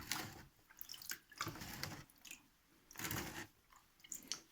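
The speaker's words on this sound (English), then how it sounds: "we'll just drop it into the water and count that 50 times" Soil aggregates sieved by hand in water, repeated wet sloshing and dripping bursts in an irregular rhythm with short pauses between dips, faint and close.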